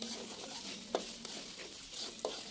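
Spice paste mixed with Javanese palm sugar is stir-fried for yellow tumpeng rice, giving a faint, soft sizzle with a few sharp scrapes of stirring.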